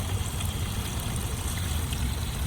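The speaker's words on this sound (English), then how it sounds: "leave the hose in the cooler so it'll continue rinsing" A garden hose runs water into a cooler of crawfish to rinse them, a soft steady trickle and gurgle that continues alone without a break.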